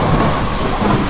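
Steady rain pours down, a loud, dense and continuous wash of noise that fills the whole moment with no clear individual drops and no voices.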